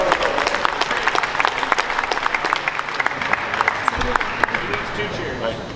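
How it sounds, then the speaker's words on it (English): A conference crowd claps for a speaker taking the stage, a continuous burst of many hands applauding at moderate distance, with a few sharper individual claps and faint voices underneath. "Round of applause for Nico."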